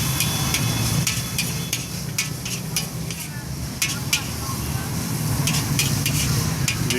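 Vegetables for chicken chowmein stir-frying with a tablespoon of vinegar, a steady close sizzle with repeated scraping and stirring strokes throughout.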